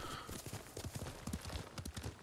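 A horse's hooves clip-clop at a steady walking pace in Ghost of Tsushima, rhythmic hoofbeats alone with faint game ambience.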